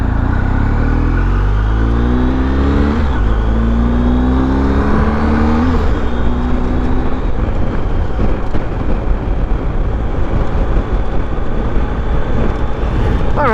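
BMW R 1250 GS motorcycle being ridden, a loud engine climbing through the gears with rising pitch sweeps and shifts, then a sustained rough drone of cruising with wind noise.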